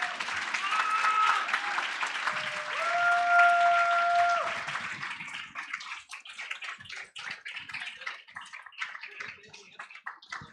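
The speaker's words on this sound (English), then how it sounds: "Put a round of applause." Community forum audience applauds a youth council called to the front, with sustained clapping that starts full and loud, a few tonal whistles or cheers over it, then thins into scattered claps.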